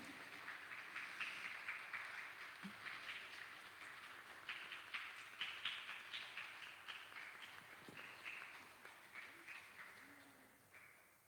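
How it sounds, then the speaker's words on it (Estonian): Applause from a congregation at a third-Advent church concert service: faint, steady hand clapping, with many overlapping claps that continue throughout before tapering off at the end. "Angela, teeme aplausi."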